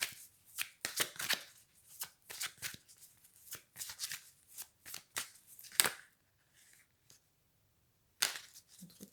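Tarot cards are shuffled and drawn by hand, giving a run of crisp riffling flicks and soft snaps in irregular bursts, close and fairly quiet, with short pauses between the clusters.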